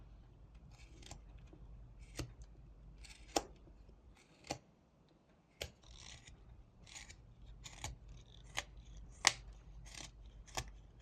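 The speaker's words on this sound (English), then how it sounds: "a few sweeping cuts to remove the pencil marks" A knife whittling wood: a series of short, sharp scraping cuts with soft rasping between them, about a dozen strokes at an uneven pace, close and fairly quiet.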